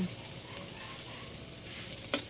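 Minced garlic sautés toward golden brown in a pan for a squid stir-fry, a steady close sizzle with a sharp clink of a stirring utensil near the end.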